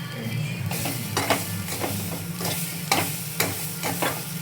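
Carrot and coconut curry frying on low heat in a pan, a steady soft sizzle broken by repeated scraping stirs of a spoon, close and continuous without speech.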